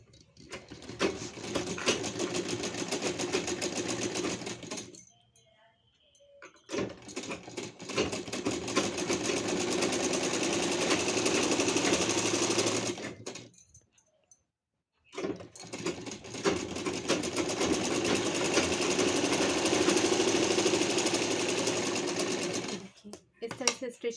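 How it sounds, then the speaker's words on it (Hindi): A sewing machine stitches lining fabric and net fabric together for gown sleeves, running in long steady bursts of rapid whirring with brief pauses between runs. "पहले स्टिचिंग कर लेंगे।"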